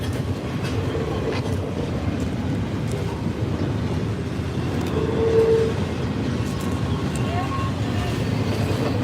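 Norfolk Southern freight train on the Burnside, Kentucky to Chattanooga, Tennessee line rolling past at Oakdale, Tennessee, its mid-train DPU locomotive going by amid a steady, loud rumble and rail clatter with wind buffeting the microphone.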